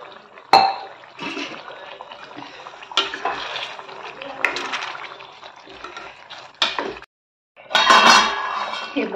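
Water splashes into hot oil in a pan on a low flame while pumpkin curry cooks, coming in intermittent bursts of pouring, sizzling and pan clinks with a brief pause near the end.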